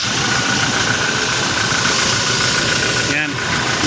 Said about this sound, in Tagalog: Nag-trigger ba ang kanyang magnetic clutch?